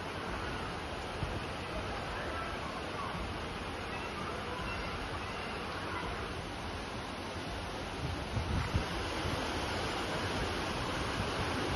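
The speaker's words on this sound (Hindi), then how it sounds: "पानी कितनी तेज वहां बह रहा है" Fast-flowing floodwater rushing along a street outside houses, a loud, steady broadband roar of churning water that holds constant throughout with only slight bumps near the end.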